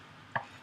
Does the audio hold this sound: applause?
no